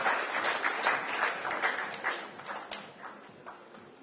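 An audience claps in a brisk, even round of applause at a formal gathering, fairly close and steady at first, then gradually tapering off toward the end.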